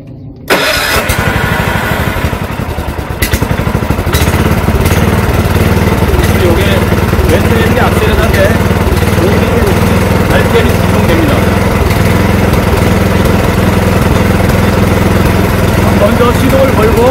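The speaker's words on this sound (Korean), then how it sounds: "먼저 시동을 걸고" Rented walk-behind farm cultivator engine starting after a brief silence, then running loud and steady close by with a rough mid-pitched chug, and someone talking over it.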